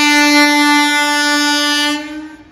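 A passing train hauled by a WAG-5 electric locomotive at a station gives a loud, sustained horn blast that holds steady for about two seconds and then fades, with no other sounds around it.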